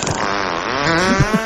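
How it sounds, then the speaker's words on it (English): A novelty iPod plays a loud, drawn-out fart sound effect, a buzzy rasping blast that wavers in pitch and ends with a few sputtering pops. "I fart."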